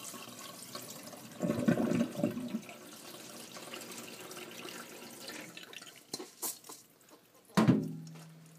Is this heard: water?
yes